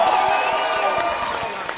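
Concert crowd applauding and cheering after a song, a loud, dense wash of clapping with scattered whoops and a faint lingering musical tone underneath.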